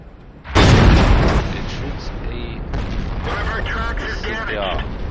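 A tier 10 Leopard tank gun firing in World of Tanks, one sudden loud boom that fades into a lingering rumble with mechanical rattles and clinks, no speech over it.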